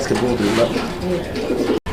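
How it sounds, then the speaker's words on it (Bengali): Fancy pigeons coo in soft, low repeated rumbles throughout, close by, with a voice talking over them. "এখানে চমৎকার আরো এক জোড়া কবুতরের কালেকশন আছে"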